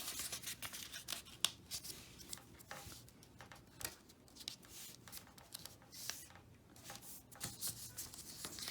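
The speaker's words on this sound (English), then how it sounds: "I'm just folding right on that line" A paper sketchbook template is folded by hand along its fold lines, giving soft, close crinkles and creases with small scattered taps and rustles at a low level throughout.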